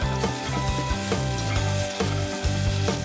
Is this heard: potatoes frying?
yes